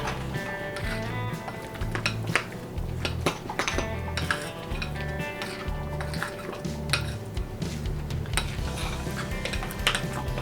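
Melted butter is stirred around a cornbread baking pan, with a continuous clatter and scraping of utensil against metal, close and moderately loud throughout.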